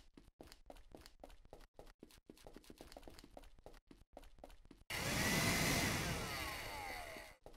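A vacuum cleaner whirs loudly in a video game, a steady broadband roar starting abruptly after a run of rhythmic clattering steps or taps and holding for several seconds.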